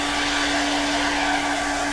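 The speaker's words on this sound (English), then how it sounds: "hit it real quick with your blow dryer" A blow dryer runs steadily at close range for two seconds, a constant broadband whoosh with a fixed motor hum, used to dust off a wooden lazy susan board being stripped and refinished.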